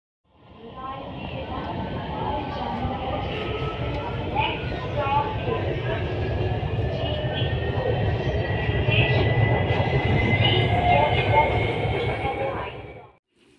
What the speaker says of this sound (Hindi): थोड़ी देर बाद ऑरेंज ट्रेन आ गई तो हम उसके अंदर सवार हो गए